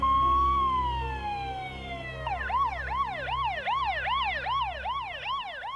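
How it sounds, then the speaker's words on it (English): An ambulance siren wails in a steady tone, then switches to a rapid repeating yelp, loud and continuous with a low engine hum beneath. "20 minutes later, an ambulance rushed Don to the nearest hospital."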